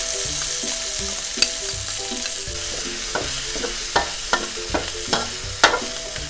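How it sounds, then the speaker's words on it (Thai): Garlic and chili sizzle in hot oil in a wok for a Thai spicy eggplant stir-fry, a steady crackle broken by repeated sharp scrapes and taps of a spatula stirring, close and fairly loud with no voices. "ทอดกระเทียมให้เหลืองหอมก่อนพอกระเทียมเริ่มเหลืองนะคะเราก็ใส่พริกลงไปค่ะ"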